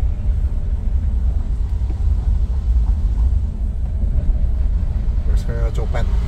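A Daihatsu Terios engine drones as a low, steady rumble from inside the car while it accelerates through the gears. A voice gives shifting directions over the engine.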